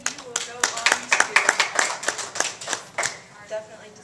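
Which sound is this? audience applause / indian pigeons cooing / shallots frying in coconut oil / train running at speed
audience applause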